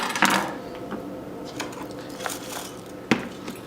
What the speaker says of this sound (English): I'm using just a regular lemon for it, so I'm just going to cut it in half.